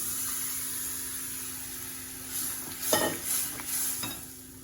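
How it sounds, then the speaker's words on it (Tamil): Mashed vegetables for pav bhaji sizzle gently in a pan while a spoon stirs and scrapes against it a few times, the scraping growing louder toward the end. "இதை இப்போ லைட்டாக வதக்கிட்டு அதுக்கப்புறம் நம்ம மேஷ் பண்ண வெஜிடபிள்ஸ் போட்டுருவோம்."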